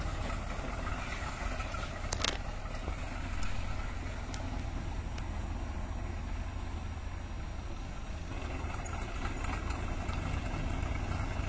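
A Swaraj 855 tractor hauls a load of 100 bundles of jute along a rough track. Its engine holds a steady, close, rumbling drone throughout, with no talk over it.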